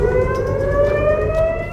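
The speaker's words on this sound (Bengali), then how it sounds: "এর পরপরই ইসরায়েল জুড়ে বাজছে সাইরেন।" An air-raid siren sounds across Israel during an Iranian missile attack, a loud steady wail holding one rising pitch with strong harmonics, with no voices over it.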